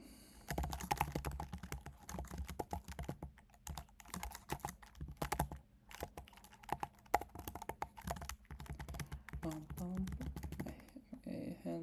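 Rapid clattering keystrokes on a computer keyboard while typing code, close and continuous with brief pauses, with someone talking quietly over the tapping.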